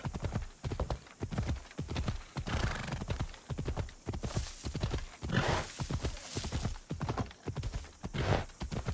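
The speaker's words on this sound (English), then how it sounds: "Come on, Phobos, he can run faster than that." A horse gallops in the video game Assassin's Creed Odyssey, rapid rhythmic hoofbeats pounding steadily and close, with occasional snorts and a whinny, no talk over it.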